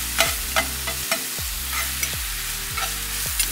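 Cheesesteak meat frying in a pan and being stirred, a steady close sizzle broken by repeated scraping and clanking strokes of the utensil, with no talk.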